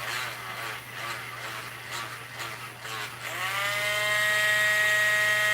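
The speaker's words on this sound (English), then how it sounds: "not even sanding it down very good." A power tool sands a Mexican silver un peso coin, a faint buzzing whine that wavers unevenly at first, then settles into a steady, louder high-pitched drone.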